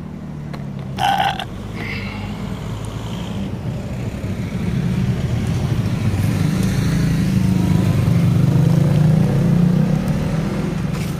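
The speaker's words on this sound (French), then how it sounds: "Derrière moi, les voitures s'arrêtent parce qu'il y a un dos d'âne." Cars slowing for a speed bump and rolling past behind the speaker outdoors, an engine growl that swells and stays loud, with a brief gurgling rev near the start.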